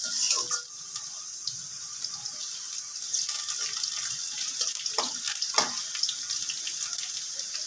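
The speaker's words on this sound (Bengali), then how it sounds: "পেঁয়াজটা আমি হালকা করে ভেজে নেব।" Sliced onions with green chilies fry lightly in a pan, a steady soft sizzle and crackle with occasional stirring scrapes, close and moderately quiet with no talking.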